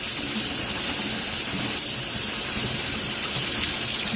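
Hands are rinsed under running tap water, a steady close hiss of flowing water that holds constant throughout with no talking.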